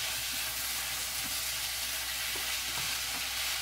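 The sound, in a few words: stirring carrots in a pan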